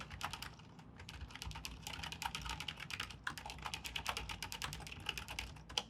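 Rapid, uneven clatter of keys on a computer keyboard, steady and close, with no voices.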